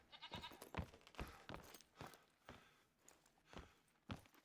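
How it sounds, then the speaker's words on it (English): Faint, distant bleating from a feral goat outdoors during a hunt, mixed with soft footsteps crunching over the ground. "Feral goat."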